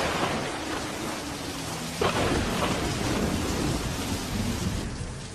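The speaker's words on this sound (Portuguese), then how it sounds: "ele foi apanhado por uma tempestade violenta" A violent thunderstorm roars with heavy, dense rain and a rumble of thunder that swells partway through, loud and continuous without any voices.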